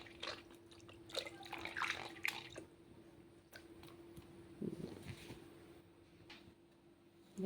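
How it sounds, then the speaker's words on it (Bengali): Okra being washed under running water from a tap, with a steady trickle and scattered drips and splashes as the pods are rubbed by hand, fairly close and fading toward the end. "ভেন্ডি কয়টা ভালোভাবে ধুয়ে নিলাম"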